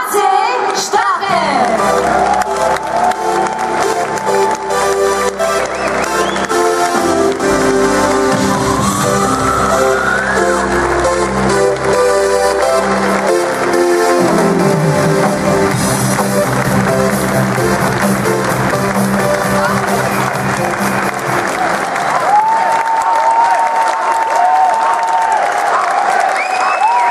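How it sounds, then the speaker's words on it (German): A large crowd at an FPÖ New Year's gathering in Pyramide Vösendorf gives H.C. Strache loud, sustained applause, with scattered whoops and shouts. Music plays underneath throughout. "begrüßen wir ihn mit einem riesengroßen Applaus"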